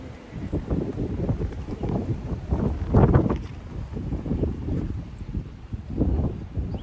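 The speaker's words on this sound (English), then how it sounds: "This wind is blowing me away." Gusty wind blowing outdoors in a garden bed, a steady rumbling buffet on the microphone that surges louder around the middle, with no talking.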